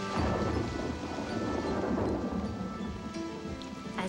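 A cartoon storm sound effect combines steady heavy rain with rolling thunder, a dense continuous wash that stays loud throughout, with no talking.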